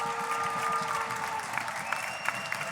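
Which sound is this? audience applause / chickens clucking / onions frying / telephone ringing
audience applause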